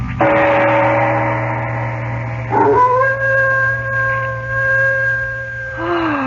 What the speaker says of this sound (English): No sound can be heard but the ominous howling of a dog.